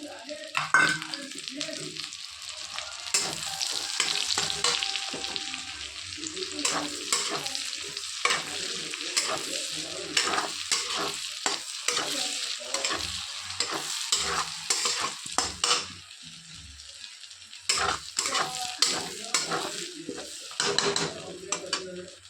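Onion frying in hot oil in a pan, a steady sizzle under repeated scraping and stirring with a utensil and occasional clinks against the cookware, close and moderately loud, with no talking.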